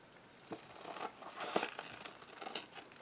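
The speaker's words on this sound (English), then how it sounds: "So I'm just cutting the dryer sheet, I'm not cutting the card." Quiet, close snips and crinkles as scissors cut through a thin dryer sheet, several soft cuts in a row.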